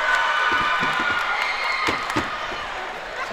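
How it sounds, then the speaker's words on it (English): Loud, dense crowd cheering and shouting fills a gym during a Therrell vs. Southwest Dekalb high school basketball game, a continuous roar with scattered sharp claps or bangs. "This crowd is electric."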